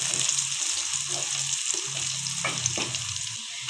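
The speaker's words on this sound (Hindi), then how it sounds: "दो बड़ी प्याज ले लिए हमने, इनको अब हम फ्राई कर लेंगे प्याज को" Sliced onions and whole green chillies fry in hot oil in a pan for keema, giving a steady close sizzle broken by occasional stirring scrapes.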